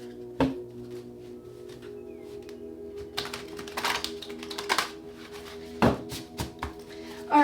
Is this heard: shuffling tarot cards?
yes